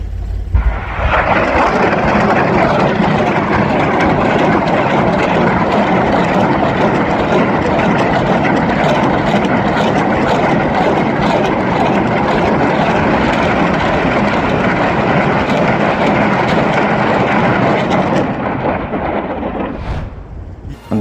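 A US nuclear bomber aircraft flies past, a loud, continuous deep roar of jet engines lasting about twenty seconds before cutting off.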